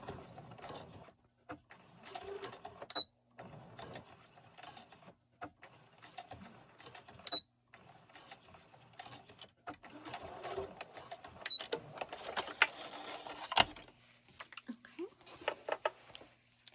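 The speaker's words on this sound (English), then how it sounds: "And now we're back stitching to sew up all our work." A sewing machine back stitches a cloth face mask in short, repeated bursts of mechanical whirring. Brief pauses separate the bursts, and faint handling noises fall in between.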